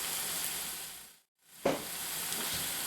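Ingredients for cornbread dressing sizzle and crackle in a hot pan, a close, dense frying hiss that cuts out for a moment, then returns with a sharp burst and carries on steadily. There are no voices.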